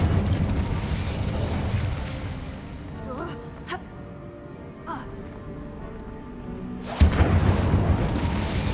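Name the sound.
Incendio fire spell in Hogwarts Legacy video game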